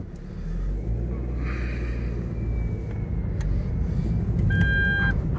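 Toyota MR2 engine idling steadily as a low continuous rumble, with a brief high electronic beeping near the end.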